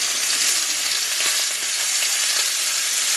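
A steak sizzles loudly in a pan with garlic, a dense, steady, close-up hiss of frying that holds throughout with no talking.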